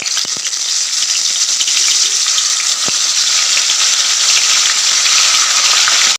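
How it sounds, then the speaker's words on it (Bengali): Tilapia pieces fry in hot oil in a pan, giving a loud, steady, close sizzle that crackles without pause throughout, with no voices. "তেলটা গরম হয়ে গেছে এবার আমি মাছগুলো দিয়ে দেব"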